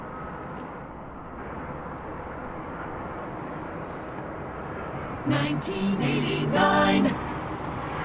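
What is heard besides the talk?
airplane arriving at DFW Airport at night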